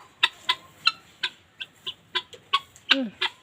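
A black hen clucks in a quick series of short, close calls, about a dozen in a row, with a brief squawk near the end, outside her coop in the morning.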